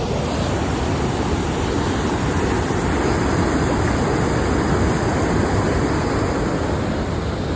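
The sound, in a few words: rushing water at a dam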